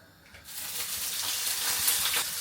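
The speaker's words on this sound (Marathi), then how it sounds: "तेल जालें गरम आतां घाल्ले आमगेले बांगडे आनी करया बरें फ्राय" Mackerel sizzling as it fries in hot oil in a pan, a steady loud hiss that swells and holds after the fish goes in.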